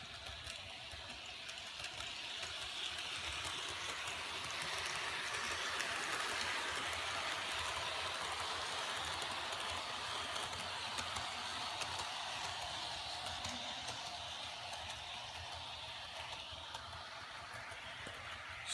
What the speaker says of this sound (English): So far the consist is doing pretty good being pulled by this engine.